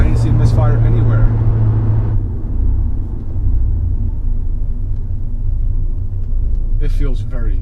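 A 1.4L MultiAir Turbo Fiat 124 Spider engine idling roughly with a cylinder misfire, a low uneven rumble running steadily under someone talking at the start and end.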